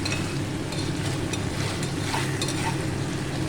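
A potato and prawn mince curry with potol fries in a pan, giving a steady, loud, close sizzle with a few stirring scrapes throughout.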